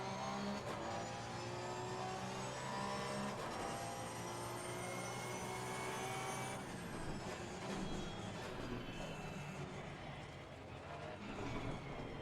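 Race car engine in the sim racing game Assetto Corsa Competizione, a loud sustained high-pitched whine that rises and shifts through gears, continuous with no talk.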